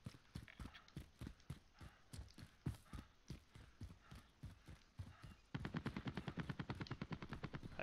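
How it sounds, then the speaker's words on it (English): Rapid gunfire from the Call of Duty Warzone video game in solo mode, a steady run of sharp shots that quickens into a dense, fast burst near the end, heard at a moderate distance with no talking. "I hear gunshots."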